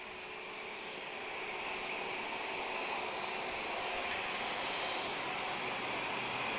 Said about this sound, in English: time for an A321 Neo